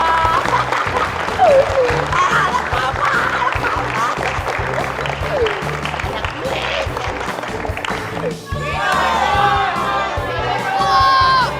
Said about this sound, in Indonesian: Kasih tepuk tangan buat anak Papa